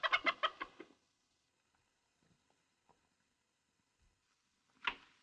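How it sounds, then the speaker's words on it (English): A hen clucks in a rapid burst of several close, loud notes, followed by faint scattered scratches and a single sharp cluck near the end, in an old western film scene. "I have a hen sitting under the bed, and he likes to peck at her."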